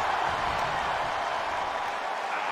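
A capacity crowd at a WWE tag team match featuring Brock Lesnar and Roman Reigns, a steady roar of cheering and applause filling the arena without letup.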